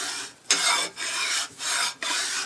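Sharpening stone rasped back and forth across a 1959 GMC exhaust manifold, four loud, gritty rubbing strokes in a steady rhythm with brief pauses between, close up and with no talk.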